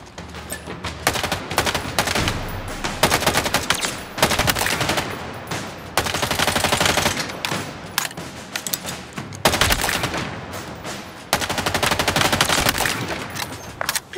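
Rapid gunfire from live rounds in Halo Infinite, sustained bursts of shots cracking loudly and almost continuously, with short pauses between volleys and no talking.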